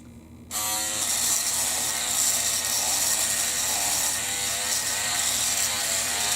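A Mangroomer back hair shaver with a foil head runs against a face, its steady close buzzing whir starting abruptly after half a second and holding evenly to the end, with no talking.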